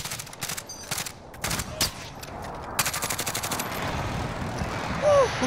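Gunfire in the Warzone video game sounds as rapid bursts of fairly close shots amid the game's ambient sound, with a short voice near the end.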